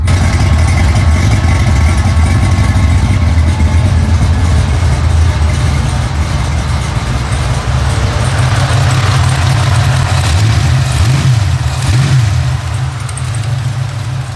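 A Ford Mustang fitted with a BTR stage 4 cam idles loud and close with a choppy, lumpy rhythm, then climbs through a few throttle blips and revs before settling back.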